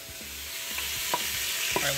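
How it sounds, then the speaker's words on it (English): Bacon sizzles and crackles as its fat renders out in a warm pot, with a steady, moderate frying hiss, small pops and occasional scraping from stirring. "we're going to take 6 pieces of bacon. We're going to render out the fat"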